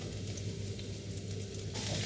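Garlic is added to a pan along with bitter melon, corned beef and shrimp paste, giving a steady, close sizzle of frying throughout with no talk.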